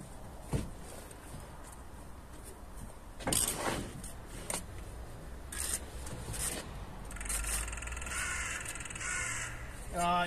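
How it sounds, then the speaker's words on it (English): A crow caws several times in short harsh bursts at a bricklaying site outdoors, rising over a steady background of scraping and ambient noise, with faint voices nearby. "it's a crow, innit?"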